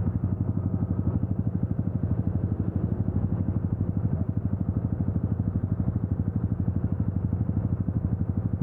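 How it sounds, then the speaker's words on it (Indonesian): A motorcycle engine idles steadily and close by, with a low, even pulsing throb that holds through the whole stretch and no one speaking. "kenapa saya juga beli motor ini karena alasan suaranya"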